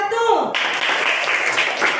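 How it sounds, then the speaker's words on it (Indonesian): Classroom applause for a student group, a steady wash of clapping that starts right after a voice and carries on evenly to the end. "tepuk tangan untuk kelompok 1"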